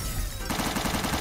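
Rapid automatic gunfire in the modded video game Teardown, a steady burst of evenly spaced shots that begins abruptly and continues loud.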